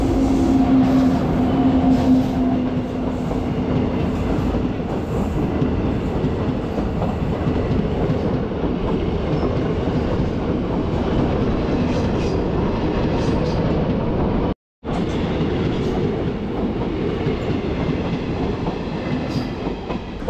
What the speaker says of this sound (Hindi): और दोस्तों इसी के साथ हमारी क्रॉसिंग हुई Amritsar Nangal dam express train के साथ।